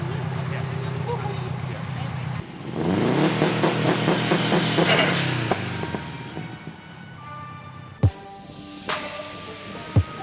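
A Subaru WRX engine with a custom build revs hard from idle, climbs loudly for a few seconds, then settles back to a burbling idle with sharp blips, while people talk close by.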